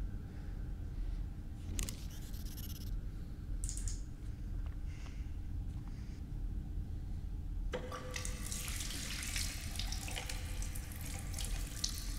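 Running water from a sink tap in the video game STASIS, a steady hiss that stays low for a while and then swells into a louder, brighter rush of flowing water, alone with no talk.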